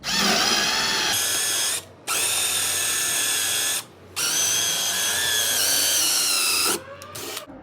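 A power drill with a hole bit whines loudly in three long bursts separated by short pauses, boring steadily through a wooden door jamb.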